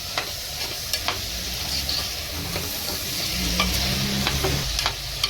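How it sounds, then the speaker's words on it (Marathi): Chopped ridge gourd and chana dal sautéing in a pan, a continuous close sizzle broken by several sharp clicks and scrapes of a spatula stirring, with no talking. "एक 5 मिनिटं जरा तरी परतून घ्या, छान लागेल"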